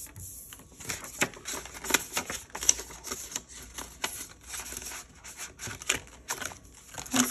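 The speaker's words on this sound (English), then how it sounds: "I'm writing on the back of it." Pen scratching and tapping across paper in a budget planner, close and steady in short bursts and strokes, fairly quiet, with no talking.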